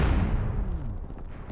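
A deep, rumbling explosion in Oddworld: Abe's Oddysee booms loudly at the start, then rolls off into a fading low roar with scattered crackling debris.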